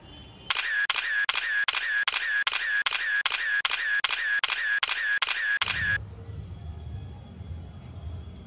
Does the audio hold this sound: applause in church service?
no